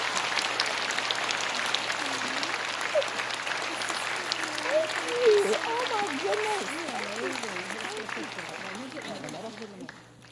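Nursing graduates at a Vanderbilt pinning ceremony get steady applause from a crowd in a hall, with voices and cheering mixed in, tapering off near the end.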